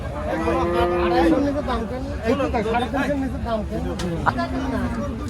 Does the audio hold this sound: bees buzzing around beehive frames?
no